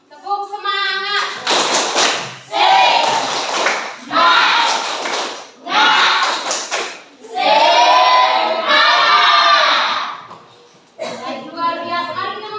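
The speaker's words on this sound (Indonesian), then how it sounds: "Mari kita memberikan tepuk tangan untuk kita semua" Schoolchildren in a classroom clap their hands in loud rhythmic bursts while chanting together, in several blocks separated by brief pauses, with children's voices prominent throughout.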